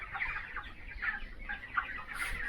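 Chickens on a poultry farm, lying quietly during a disease outbreak, give soft, scattered clucks at a low, steady level. A few murmured calls overlap with no talking.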